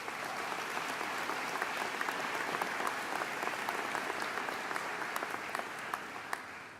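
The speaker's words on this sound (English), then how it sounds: "Let's give them a round of applause as well." An audience at a university convocation at UW-Stevens Point applauds, a dense steady wash of many hands clapping with sharp individual claps standing out, sustained throughout and gradually tapering at the end.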